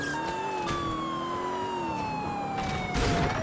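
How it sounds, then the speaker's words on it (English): Police car siren in the video game Grand Theft Auto 4, a continuous wailing tone that slowly sweeps up and down, fairly faint under steady engine and traffic noise, with a couple of short bursts near the end. "And the siren sounds like a dead baby."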